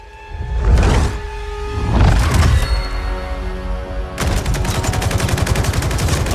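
Gunfire in the fighting game Mortal Kombat 11, loud cracking bursts in the opening seconds followed by a sustained rapid machine-gun rattle, mixed with game music.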